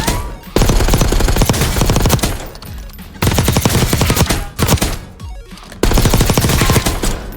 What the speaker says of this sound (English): In this one, I'm using the Ames 85. This gun has 0 recoil.